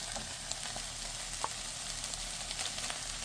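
Potatoes fry in a pan with a steady, dense sizzle and occasional small pops and stirring clicks, close and constant throughout.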